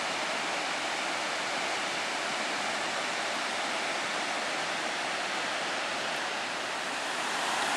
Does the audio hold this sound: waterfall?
yes